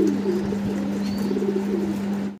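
Caged pigeons on a pigeon farm cooing in a low, steady murmur, with a sustained hum underneath and a few faint chirps, close and continuous throughout.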